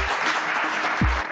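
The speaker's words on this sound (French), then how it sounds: "Un franc-maçon applaudi par des frontistes, la scène est étonnante." Brief burst of audience applause at a National Front political rally, dense clapping from a crowd throughout with a low thump partway through.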